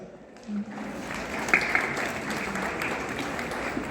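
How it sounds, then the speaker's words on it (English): Students applaud for themselves at a Class XII farewell, steady, moderately loud clapping from a group that carries through to the end, with a few brief voices mixed in. "So you can applaud for yourselves."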